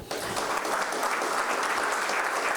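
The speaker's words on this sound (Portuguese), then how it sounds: "Eu peço uma salva de palmas para a OCB" Applause from an audience at a cooperativism committee session, a dense, steady burst of clapping that starts abruptly and carries on evenly for a few seconds.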